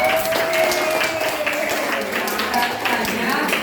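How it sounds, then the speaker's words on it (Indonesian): Classroom applause for a student group: a steady wash of many hands clapping at once, dense and continuous, with children's voices talking over it throughout. "beri tepuk tangan untuk kelompok 3"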